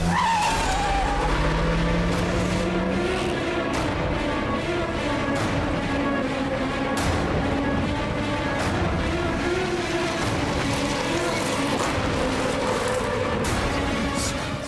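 A car speeds away in a crime drama chase scene, its tires skidding and screeching loudly over a continuous engine roar that stays close and intense throughout.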